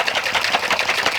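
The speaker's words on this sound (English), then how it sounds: "shake it vigorously during that first 30 seconds to make sure that the adhesive is really, really well mixed" A Stickit Pro adhesive bottle shaken vigorously, its contents sloshing and rattling in a continuous fast, even rhythm, loud and close with no pauses.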